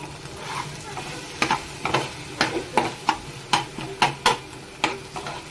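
Prawn chilli frying in a pan with red chilli sauce and soy sauce, a steady sizzle broken by repeated sharp scrapes and clanks of a spoon stirring against the metal, close and fairly loud.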